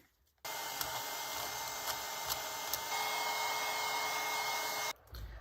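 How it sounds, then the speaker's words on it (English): A hair dryer switches on and blows with a steady whirring roar for several seconds while drying craft beads, then shuts off, with faint clicks of the beads being stirred beneath. "stir the beads while drying them with a hairdryer"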